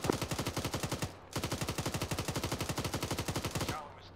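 Automatic gunfire in the military shooter Arma, loud rapid bursts at a steady rhythm, with a short break before a second long burst.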